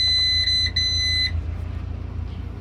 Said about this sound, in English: Hazards will beep the same.